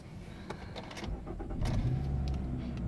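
A 2013 Nissan Rogue S engine cranks and catches, rising from a brief starter whir into a steady idle, close up and fairly quiet, with no talking.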